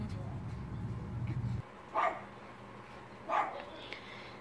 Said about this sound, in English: That's her dog barking.